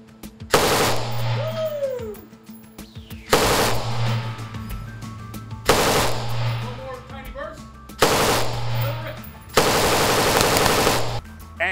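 Bursts of machine gun fire on a VIP range at a gun store in Las Vegas: about five loud, rapid automatic strings, each lasting roughly a second or two, separated by short pauses with ringing ears-protection muffle and range noise between.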